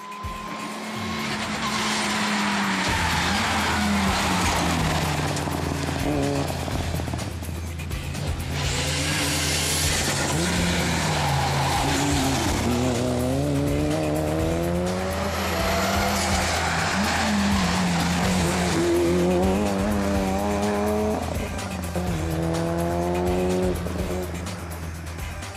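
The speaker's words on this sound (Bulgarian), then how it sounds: "С този автомобил Божилов се състезава от 2010 година" Race car driven hard up a hillclimb course at the 2012 Blagoevgrad event, engine loud and continuous with repeated rising revs through gear changes, whine climbing and dropping throughout, no talk.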